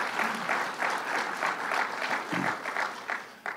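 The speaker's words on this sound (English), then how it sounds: "So let's give her a round of applause" A crowd gathered for a visit from Governor Cuomo applauds County Executive Curran. The clapping is steady, moderately loud and fairly close, lasting a few seconds before tapering off.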